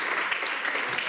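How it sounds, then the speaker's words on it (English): An audience at an inclusive employment and entrepreneurship forum in Madrid applauds a speaker, a short burst of dense, steady clapping filling the room. "A round of applause for her."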